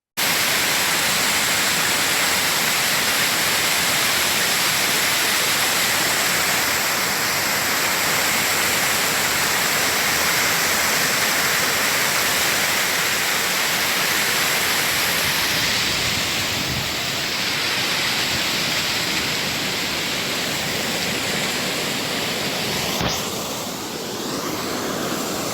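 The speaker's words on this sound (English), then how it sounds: "from tailing pond, this water is overflowing" Radioactive water pours over the broken embankment of a uranium tailing pond in YSR district, Andhra Pradesh, after the 2019 floods. It makes a steady, loud, continuous rush with no pauses and no voices.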